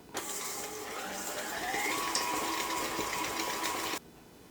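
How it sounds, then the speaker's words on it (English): An electric mixer creaming cookie dough for chocolate chip cookies at medium-high speed, a steady whirring motor hum with a faint churning texture that runs about four seconds and stops abruptly, no speech. "We're just going to cream this on medium-high heat until it's light and fluffy"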